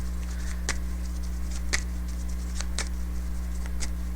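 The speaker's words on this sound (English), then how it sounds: "I'm still shuffling, you guys." Tarot cards are shuffled by hand in quick, irregular bursts of soft riffling clicks and swishes, close and fairly quiet over a low steady hum, with no talking.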